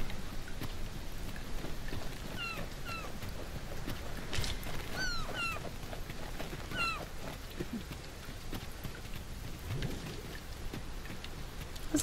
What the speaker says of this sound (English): Not like a little bit of rain is gonna hurt us anyway.